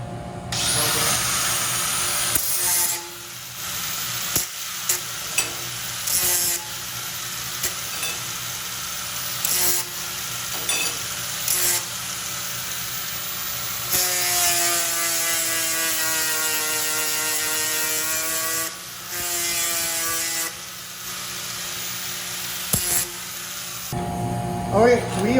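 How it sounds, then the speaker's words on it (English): Steel being deburred with mill scale ground off before TIG butt welding, a harsh rasping grind with shifting tones that runs in bursts with short pauses throughout, loud and close. "Going to deburr this and remove the mill scale so we can weld it up."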